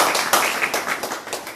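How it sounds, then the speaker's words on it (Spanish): Audience clapping for a union member at a Pan-African movement tribute to Winnie Mandela in Barcelona, a short burst of dense, uneven claps from a nearby crowd with no talk over it. "un aplauso para este compañero."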